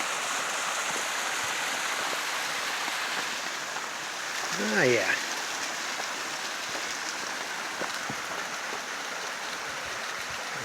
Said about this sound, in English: it's got a little waterfall going